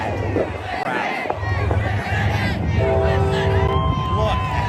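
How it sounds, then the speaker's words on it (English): A large crowd gathered outside a McDonald's in Philadelphia, a dense roar of cheering and shouting voices that stays loud and continuous, with a few sustained chant-like tones rising partway through. "Oh, man. What a crowd."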